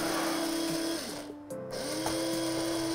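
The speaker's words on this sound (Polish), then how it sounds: "w tej chwili w młynku takim zwykłym do kawy mielimy słonecznik" An ordinary electric coffee grinder milling sunflower seeds runs with a steady, close whirring hum that briefly dips and strains, then picks back up to a constant drone.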